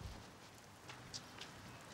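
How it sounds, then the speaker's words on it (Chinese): Light drizzle falls in a park, heard as a faint, soft hiss of fine raindrops pattering on surfaces, continuous and quiet, with no talking. "哥，下毛毛雨了，"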